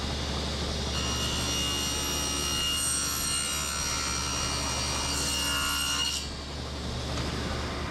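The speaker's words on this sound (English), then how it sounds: "has to do a plunge cut." A saw making a plunge cut into wood while building a shopmade fuel dolly shelf, a steady loud grinding cut held for about five seconds over a constant motor drone, with no talk.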